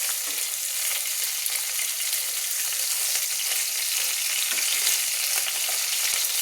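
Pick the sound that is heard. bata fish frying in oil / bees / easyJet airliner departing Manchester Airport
bata fish frying in oil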